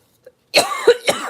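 A few rough coughs in quick succession, close and fairly loud, after a moment of silence.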